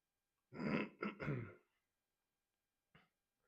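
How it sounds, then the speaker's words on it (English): A person clears their throat in a short, throaty burst of several rasps, then one brief faint hack follows after a pause. "Sorry, clearing my throat."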